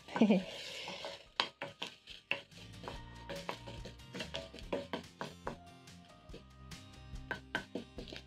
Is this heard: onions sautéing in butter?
yes